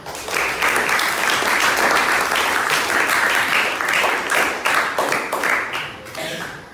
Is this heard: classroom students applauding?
yes